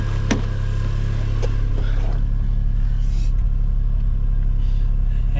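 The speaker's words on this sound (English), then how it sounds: "it sounds like it's idling a little high" Suzuki Cappuccino engine with an HKS intake, idling slightly high around 1200 RPM with the AC off, a steady low rumble running throughout at close range.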